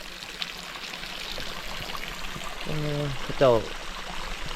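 Water from a stream in rural Laos is tapped into a pipe and runs in a steady, continuous flow. Someone speaks briefly over the running water.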